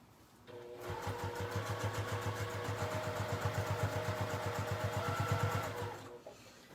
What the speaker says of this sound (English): you want to make sure you're only sewing the layer you want to